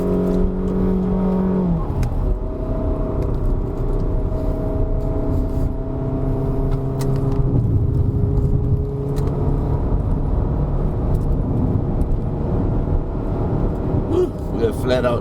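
Peugeot 3008 SUV engine held at full throttle on an uphill mountain road at Genting, a steady loud drone with rising harmonic tones throughout, heard from inside the cabin with some speech over it.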